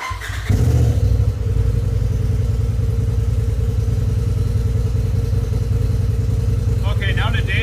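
A motorcycle engine fitted with a PVCX ECU tuner cranks and fires up, then settles into a loud, steady, close idle with a rhythmic low pulse, and a voice speaks briefly near the end.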